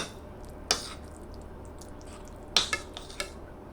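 A spoon knocks and scrapes in a bowl while a tuna and egg sandwich filling is mixed, a few distinct close clinks separated by quiet, soft stirring in between.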